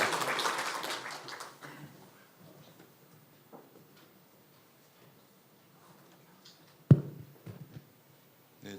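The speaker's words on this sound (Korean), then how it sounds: "먼저 한번 박수 한번 해주십시오." A church congregation applauds during a Sunday service, the clapping fading out within the first two seconds into a quiet hall with faint shuffles and a sharp knock near the end.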